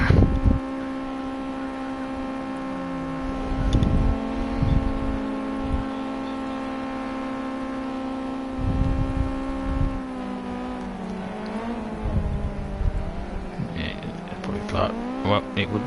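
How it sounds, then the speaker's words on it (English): Race car spinning donuts in a gravel trap at Donington Park, engine note holding steady then swelling and dipping in loud revving surges with scrabbling bursts, close and continuous throughout. "Novice attempt doing donuts in the gravel trap."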